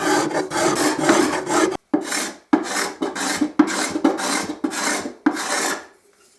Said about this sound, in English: So you can see the sort of cut that you get with a cabinet scraper.